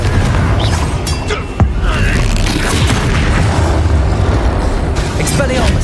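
A Confringo spell blast in the wizarding game Hogwarts Legacy, a loud booming impact with a sharp crack, surrounded by continuous rumbling combat noise.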